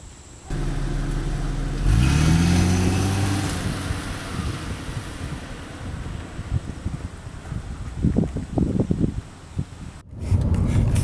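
Acura TL Type S sedan pulling away and cruising, a mid-pitched engine rising briefly in revs under steady road and wind rumble, with some bumps and knocks from inside the cabin.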